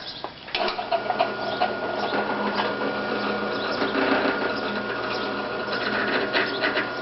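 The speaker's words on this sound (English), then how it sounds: "And I'll start that drill press up. Its lowest setting is 290 RPM." A drill press runs at its lowest speed of 290 RPM while a roll crimp is put on a workpiece, giving a steady, continuous mechanical hum with faint rubbing and whirring, close by and alone for about seven seconds.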